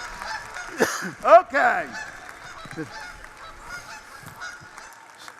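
Geese honk loudly a few times in quick succession, then fade to softer calls over a quiet outdoor background, with a brief word spoken by a person.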